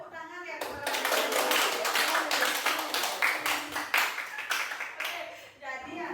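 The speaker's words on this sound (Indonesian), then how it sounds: "Mungkin kita berikan tepuk tangan ya kepada" An audience at a teachers' learning community gathering breaks into brisk clapping that swells quickly, holds dense and steady for several seconds, then thins out, with faint voices at the edges.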